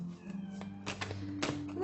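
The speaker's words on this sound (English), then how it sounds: "There's my little kitten crying." A kitten cries with a few short, high meows close by in a quiet indoor room, spread across a couple of seconds.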